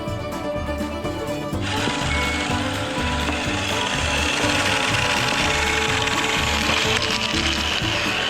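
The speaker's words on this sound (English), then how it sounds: "The articulating turn is hydraulic, and well, it's a little bit slow to my taste." A Kabolite K966 1/16-scale hydraulic RC wheel loader makes a slow articulating turn, its pump and gears giving off a constant close mechanical whine and rattling buzz that rises slightly in intensity partway through.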